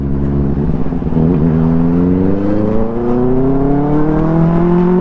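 A loud, close Benelli 600i superbike engine revs steadily higher, its pitch climbing smoothly over several seconds like a powerful motorbike accelerating.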